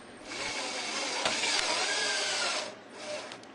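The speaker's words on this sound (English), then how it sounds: "Using screws provided, screw down the bracket into the bottom rail." A power driver sinks screws through a bracket into the bottom rail of Trex deck railing, giving a close, steady high whir for about two seconds that tapers off, followed by a brief second burst.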